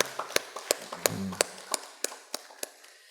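Congregation at a Sunday evening church service gives scattered applause. Sharp, uneven claps sound fairly close and thin out as they fade.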